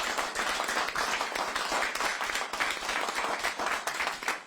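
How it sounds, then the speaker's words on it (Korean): A crowd at a Korean political campaign rally claps loudly and continuously, a thick, unbroken burst of many hands close by that holds level throughout. "손박수 부탁드립니다"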